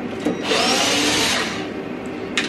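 Power drill running in one steady, loud burst of about a second while driving Torx screws into a long planar tweeter build, a brief higher whine trailing near the end.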